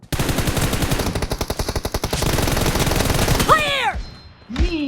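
Rapid automatic gunfire from PUBG Mobile rattles in loud rhythmic bursts, followed by a short sweeping in-game effect and a brief voice near the end.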